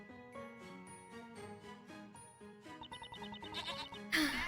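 Sheep bleats from the Professor Layton vs Phoenix Wright video game, a few short wavering cries over a bright jingling musical backdrop that swells toward the end.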